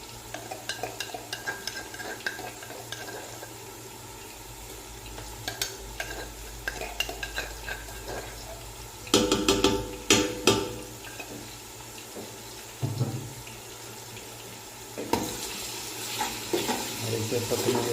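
Onion, garlic and ginger fry and get stirred in a pan, with soft steady sizzling under repeated scraping and clinking stir strokes, growing busier in a few close bursts.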